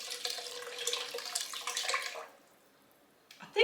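Leftover whey is poured into a pot in a home kitchen, a steady splashing stream for about two seconds that stops, followed by a brief clink.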